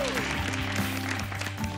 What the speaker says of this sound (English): Please give a warm round of applause to Daniel.